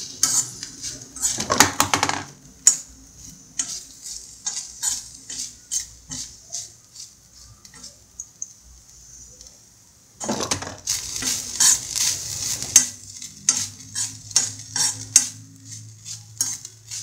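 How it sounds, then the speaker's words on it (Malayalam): Grated coconut frying in oil in a pan for a Kerala green gram and yam curry, with scraping and clinking of a spatula against the pan in bursts, pausing midway, then resuming with steady faint sizzle underneath. "ഇനി നമുക്ക് ബാക്കി പകുതി തേങ്ങ ഒന്ന് ഫ്രൈ ചെയ്തെടുക്കണം"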